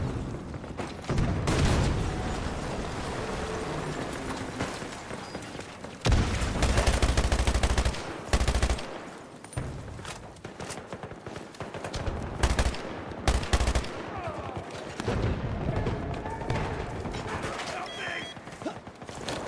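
Gunfire in Battlefield 2042 from a first-person shooter match: loud rapid automatic bursts and single shots with booming impacts, close and dense, under intermittent voices and game chatter.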